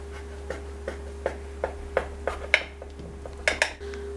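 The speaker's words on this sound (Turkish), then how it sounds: "güzelce böreğimizi kare dilimlere ayıralım" A knife cutting a baked börek into square slices: a steady series of light, crisp taps and scrapes on a tray, evenly spaced about every half second, close and fairly quiet over a low hum.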